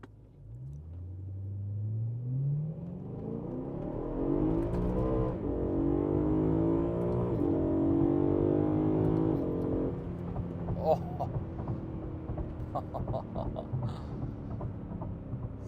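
A BMW E90 M3 engine revs up from idle in one long rising sweep, peaking loud and close, then settles back to a rough, rumbling idle.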